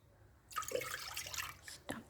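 Water poured from a container into a cooking pan already holding milk for éclair choux dough, a steady splashing pour lasting over a second, close by, ending with a brief second splash.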